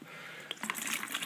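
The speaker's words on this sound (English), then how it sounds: "I'm just going to pour a bit of vinegar in there" White vinegar is poured into a bucket, a short liquid splash and trickle that starts midway and continues briefly, close and fairly quiet.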